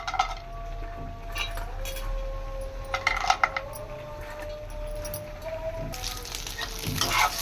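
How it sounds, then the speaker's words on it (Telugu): Chopped dry fruits frying in ghee, giving a steady soft sizzle with occasional light clinks of a spoon against the pan, heard close with no talk. "చూడండి ఫ్రెండ్స్, డ్రై ఫ్రూట్స్ ఫ్రై అవుతున్నాయి."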